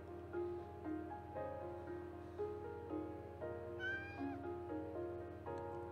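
A cat in the horror RPG Witch's Heart meows repeatedly over a soft, steady background of game music, the calls bright and close, with one longer wavering meow near the middle.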